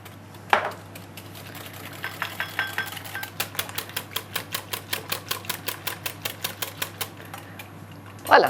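Cream and milk whisked together for a dessert in a restaurant kitchen, a steady run of quick rhythmic strokes at about four per second, close and fairly loud, ending with a louder clatter.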